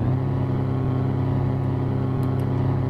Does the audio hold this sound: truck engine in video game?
yes